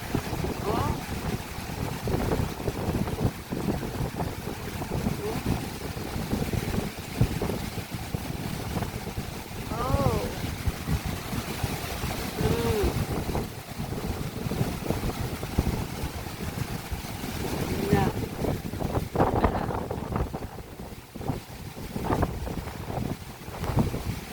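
Strong wind buffets the microphone in a constant roar, with rushing water and faint voices beneath it throughout.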